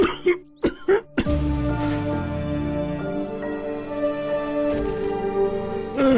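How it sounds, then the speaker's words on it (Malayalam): Several sharp coughs from a person chilled by the night cold and mist, in quick bursts at the start, followed by a sustained musical tone under the rest. "രാത്രിയിൽ മഞ്ഞും തണുപ്പും ഒക്കെ കൊണ്ടതുകൊണ്ടുണ്ടായതാ ഈ ചുമ"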